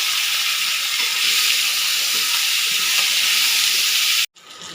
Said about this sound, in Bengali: বন্ধুরা আনাজগুলো এবার ভাজা ভাজা হয়ে এসছে